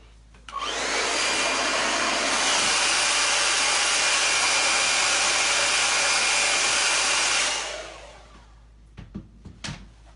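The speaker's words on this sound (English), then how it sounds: "So now I'm just gonna hit this with the blow dryer real quick." A blow dryer runs steadily at close range for about seven seconds, drying a handmade wooden bead garland, then cuts off, leaving a few light handling knocks.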